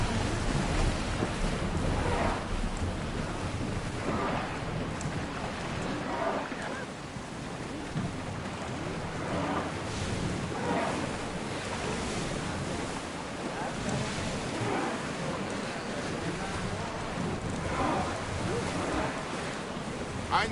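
Ocean waves wash steadily in a sailing video game as a ship moves across open sea, with a broad continuous surf and wind rush that swells and eases in soft pulses throughout.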